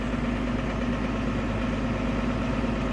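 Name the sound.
tractor engine idling while warming up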